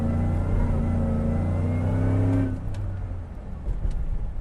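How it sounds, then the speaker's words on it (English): Supercharged 2019 GMC Yukon Denali with a 10-speed transmission accelerating smoothly, a loud steady engine drone that climbs in pitch, then drops away into a quieter rumble partway through. "Very, very smooth acceleration."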